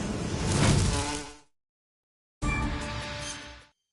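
Insects buzzing in the Metal Gear Solid 3 video game, two loud, close whining bursts with a short silent gap between them and no talk.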